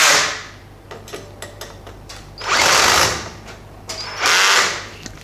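Power drill driving a screw into an Ikea Lack shelf, two sustained whirring runs separated by brief clicks and knocks, loud and close with no talking.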